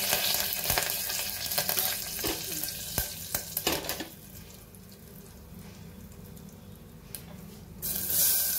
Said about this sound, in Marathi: कांदा आणि टोमॅटो आता परतून घेऊया आपण।